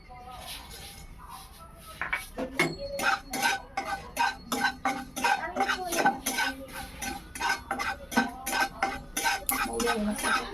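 Fennel seeds with cardamom are lightly dry-roasted in a pan and stirred continuously, making a quick rhythmic run of scraping clinks and rattles from the spoon against the metal.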